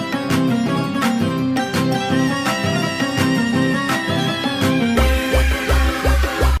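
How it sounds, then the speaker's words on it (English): A reedy, blaring zurna plays over dense drums and layered instruments at the start of a character theme from Genshin Impact. The music is loud and busy, and a pounding low beat comes in near the end. "That's the sound of a zurna,"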